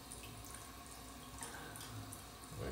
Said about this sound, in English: Got new Delta faucets installed. Very low water pressure.